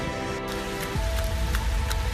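Steady rain falls outside on a cold 44-degree day, a dense continuous patter with a few sharper drops; a low tone underneath cuts out about a second in.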